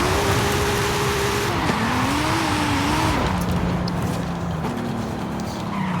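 A 2019 Nissan 370Z Nismo racing in Forza Horizon 5, its engine droning loud and steady, pitch rising through the revs and dropping at gear shifts, with faint tire noise and no talking.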